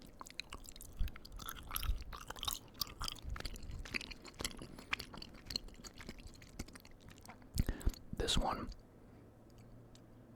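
Soft, close-up chewing of gummy bears in an ASMR eating session, with sticky squishes and bites scattered through the quiet and a louder burst near the end, under faint whispering.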